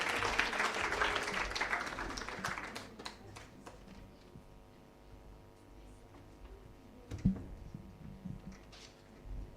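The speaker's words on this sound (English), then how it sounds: "Clap for him." An audience at a World Population Day 2024 gathering claps for a volunteer called up to pray; a burst of dense clapping for about three seconds fades into a quiet hum with scattered taps.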